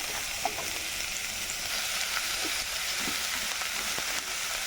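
Tomatoes and mushrooms fry together in a pan with a continuous soft sizzle, broken by scattered small pops and crackles. No one speaks.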